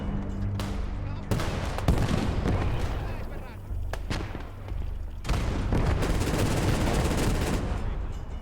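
Rapid bursts from a VSTK rifle in the Gates of Hell war game, sharp cracks with heavy low booms and distant battle gunfire throughout, a voice talking between volleys.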